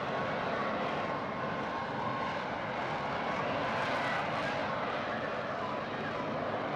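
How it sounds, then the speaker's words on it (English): A Lockheed F-35B stealth fighter jet engine gives a continuous loud, broad roar with no breaks, a dense rushing wall of sound that holds steady throughout. "It's a cute tiny jet."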